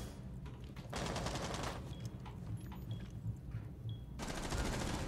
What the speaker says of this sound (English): Melissa's shooting a lot.